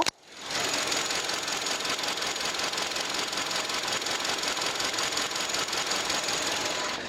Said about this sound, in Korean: 내려서 엔진 소리 들어보도록 하겠습니다